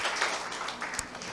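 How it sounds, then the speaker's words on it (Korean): Steady crowd applause from a seminar audience, a dense continuous wash of clapping lasting a little over a second, with no voices over it. "이 박수의 의미는 세다는 건가요?"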